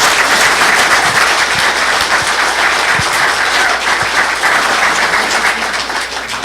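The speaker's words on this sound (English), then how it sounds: "So how about a round of applause for these great people?" A loud, sustained round of applause fills the room at a city council meeting, dense clapping from many people close by, holding steady for several seconds before easing slightly at the end.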